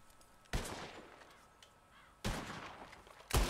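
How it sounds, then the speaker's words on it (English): Gunshots in Red Dead Redemption 2 fired at birds, three sharp loud reports spaced apart, each leaving a long decaying echo, with crows cawing faintly in the background. "whoever shoots four birds out of the sky first wins"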